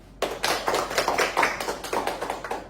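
An audience claps for Nadine. The applause is a brisk burst of many hands that starts abruptly, stays steady and close for a few seconds, and has no voices over it.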